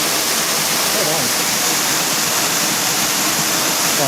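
A waterfall near an old mine adit at the Ashlu mines pours in a steady, loud, broadband roar that fills the whole span without a break.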